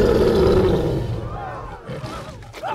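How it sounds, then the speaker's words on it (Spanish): A lion's roar from the animated film Madagascar, a loud, close, sustained bellow that fades out after about a second, followed by a voice that starts talking over the lingering ambience. "¡El rugido, campeón! ¡El rugido!"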